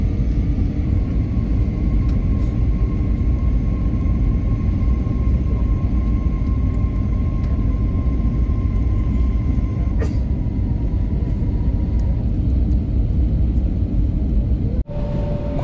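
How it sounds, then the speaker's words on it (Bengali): Inside the cabin of an airliner landing at Baku airport, a loud, constant roar of engine and airflow fills the whole stretch. A steady tone sits above it and a brief thump comes near the end. "আর আমাদের ফ্লাইট এখন বাকুতে ল্যান্ড করবে।"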